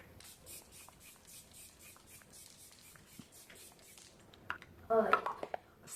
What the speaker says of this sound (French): C'est le spray fixateur Pickle Rick.